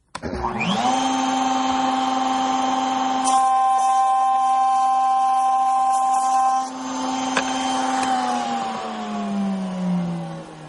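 Handheld router cutting an edge bevel on the end of a small wooden stool: a loud, steady motor whine spins up, holds through the cut with slight changes in load, then winds down at the end, with no talk.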